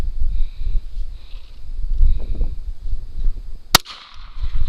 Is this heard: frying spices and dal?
no